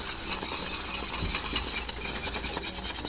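A whisk stirring sauce in a pan for a croque madame: quick, even scraping and tapping strokes against the metal, steady and close, with no talk.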